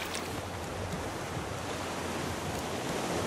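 Continuous broadband rush of ocean waves and wind in the survival video game Raft, steady and fairly loud throughout with no distinct breaks and no voices.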